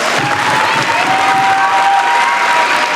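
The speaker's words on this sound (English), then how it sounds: "Let's give our veterans a round of applause." An audience at an elementary school Veterans' Day program applauds the veterans, with cheering and children's voices mixed in. The clapping is loud and steady, a continuous crowd sound throughout.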